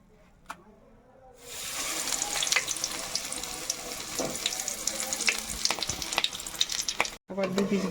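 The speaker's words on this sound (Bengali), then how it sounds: "আবার 2 পিস ভাজা হয়ে গেল।" Battered Bombay chilli chops are deep-fried in hot oil, the frying starting after a brief quiet moment and continuing as a loud, steady sizzle with crackles and pops.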